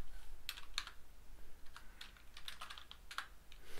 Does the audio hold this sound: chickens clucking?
no